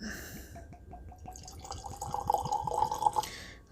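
WhistlePig 10-year straight rye whiskey poured from the bottle into a glass, a close, quiet run of gurgling drips and trickles that grows fuller and brighter toward the end.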